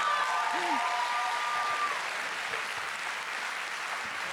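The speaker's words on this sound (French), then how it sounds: "on applaudit encore très très fort Jassia, Abdella et Charlotte" An audience applauding finalists at a national final, a steady wash of clapping heard from a distance, with a brief faint voice near the start.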